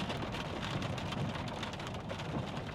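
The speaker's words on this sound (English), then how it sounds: "It started raining now" Steady rain falling outdoors at a zoo, a dense continuous patter of drops on surfaces at moderate level with no talking.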